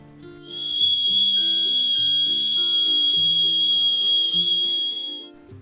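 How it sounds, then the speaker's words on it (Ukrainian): A kettle whistles with a steady, piercing high tone that holds for several seconds, while soft musical notes shift underneath. "Символ звуку це чайник, який кипить і свистить."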